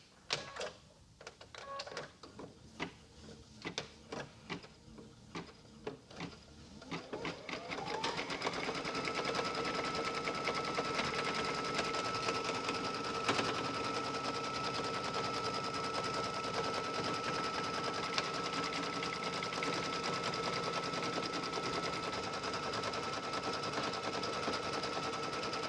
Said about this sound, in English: You'll notice that the machine is going over twice to tack that batting down well.